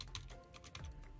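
Faint, quick taps on the Steam Deck's keyboard, a light clicking run of keystrokes close by with no talk over it.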